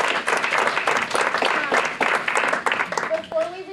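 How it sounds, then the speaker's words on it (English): Audience members at a panel on women in organic agriculture applaud the panelists with brisk, uneven clapping for a few seconds. A voice begins to speak as the clapping dies away. "Let's give them a round of applause."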